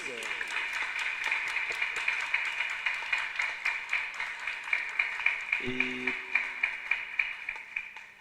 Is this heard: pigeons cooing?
no